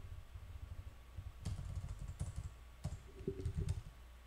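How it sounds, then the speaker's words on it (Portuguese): Quiet, close clicking of keys on a computer keyboard in quick irregular bursts, with short pauses between runs of typing and no voices. "transparente quantidade 6 enter"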